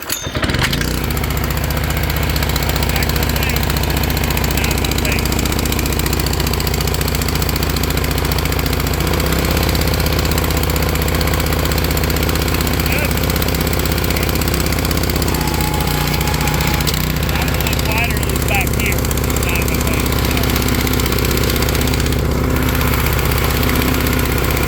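A Blue Bird lawn aerator's small gasoline engine, fitted with an aftermarket muffler and tail pipe, runs loud and steady close by, idling with a deep throbbing rumble and a slight shift in tone partway through.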